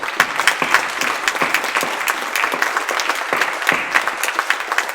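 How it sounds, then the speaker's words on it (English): Close, loud applause from an audience honoring long-serving lawyers, with distinct individual claps standing out over a steady rattle of many hands. "one final hand and round of applause"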